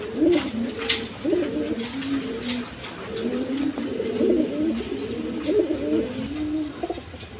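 A pigeon pair kept with their two chicks coos in repeated rolling phrases, close by and moderately loud, over steady background noise.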